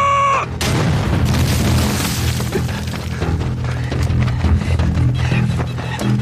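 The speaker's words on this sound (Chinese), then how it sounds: "团长，鬼子大炮" Enemy artillery cannon fire in a war drama: a loud, sudden boom crashes in, followed by a sustained roar of blasts and debris that stays dense and heavy throughout.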